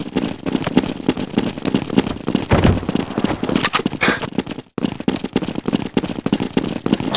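Dense, rapid gunfire from a Counter-Strike: Source zombie escape round on a Super Mario 64 map, loud and near, with crackling bursts running almost continuously and one brief gap.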